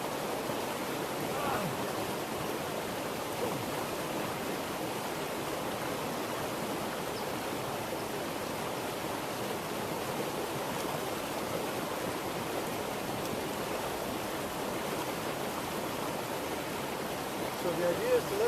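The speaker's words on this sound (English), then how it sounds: "And pull the water back and just keep washing it down" Water swirls and rushes steadily in a gold pan as sediment is washed down at the East Fork San Gabriel River, a continuous close wash of flowing water.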